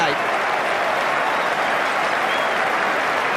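A cricket crowd at Adelaide during the 2006 Ashes Test applauds Pietersen's innings of 158, a broad, steady wash of distant stadium clapping with no break.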